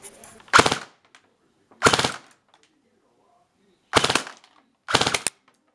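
An airsoft Shorty AK CM028 fires full auto in four short, loud bursts at close range, with brief pauses between them.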